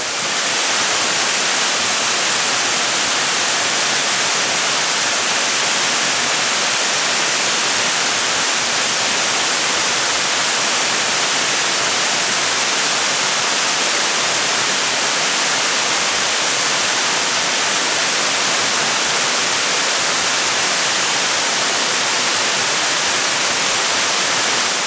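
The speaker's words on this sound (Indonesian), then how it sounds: "kita disuguhi pemandangan yang indah dan menakjubkan, yakni air terjun setinggi 25 meter" A 25-metre waterfall roars as a loud, steady, broadband rush of falling water with no break, filling the whole scene without any voices.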